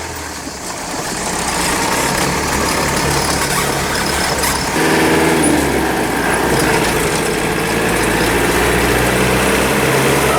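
A Land Rover Defender Tdi with an LT77 gearbox moves off on a driveway, its diesel engine droning loudly and steadily, rising slightly midway as it pulls away.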